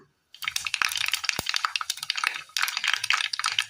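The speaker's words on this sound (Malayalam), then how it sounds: "ചൂടായ എണ്ണയിലേക്ക് കടുകിട്ട് കൊടുക്കാം." Mustard seeds crackle and pop in hot oil in a pan, a dense run of sharp, rapid crackles close by with no talking.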